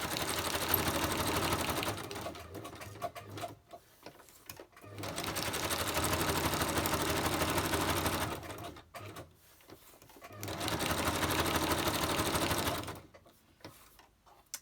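A sewing machine runs in three long bursts of steady, loud stitching with short pauses between, sewing a zigzag around a shape; no one speaks.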